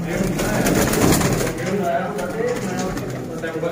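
Sialkoti pigeons coo in a dense, close chorus of low burbling calls, joined by a voice speaking over the flock partway through.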